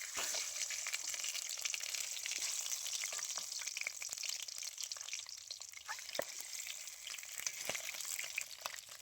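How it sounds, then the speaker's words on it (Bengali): A large katla fish head fries in white cooking oil, giving a steady, fairly quiet crackling hiss with scattered sharper pops throughout and no talking. "মাছ ভাজার জন্য এখানে আমি সাদা তেল দিয়েছি। এবারে মাছের মাথাটা ভেজে নেব।"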